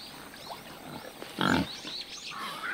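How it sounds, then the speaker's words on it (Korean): A wild boar family forages ahead of winter. Faint rustling runs underneath, and one short, louder grunt rises midway through. "멧돼지 가족은 막바지 겨울 준비에 한창이다."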